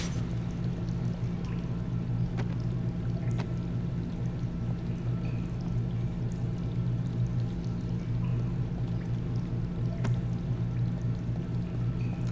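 Steady rushing water of a waterfall in the video game Castlevania: Lords of Shadow 2, a constant low roar with a few faint clicks over it, no voices.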